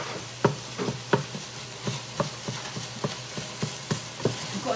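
Food sizzling in a pan after soy sauce goes in, with a spatula scraping and stirring in a steady rhythm of sharp clacks over a constant low frying hiss, close and moderately loud.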